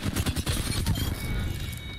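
Apex Legends gunfire rattles off in a quick string of close, punchy shots during the first second, then trails into a rumbling ambient wash of battle noise.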